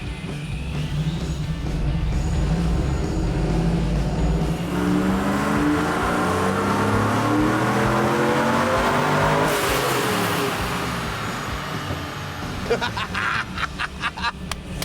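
A Chevrolet Trailblazer SS engine revving hard in first gear on a chassis dyno, rising steadily to a loud sustained roar before cutting off near the end, with people talking in the background.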